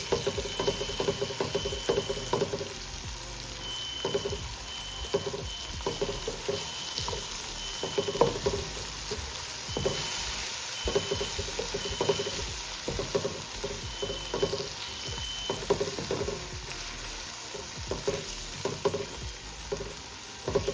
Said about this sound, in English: I'm gonna add some tomato paste to this. I also want that to fry.